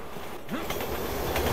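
A train rumbling past in the video game Resident Evil 6, with a continuous loud roar, faint rhythmic wheel clatter and a brief squeal, close and dense.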